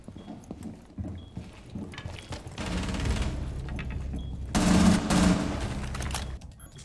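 Rapid automatic fire from an F2 assault rifle in a video game, loud sustained bursts with dense repeated shots that grow heavier near the end.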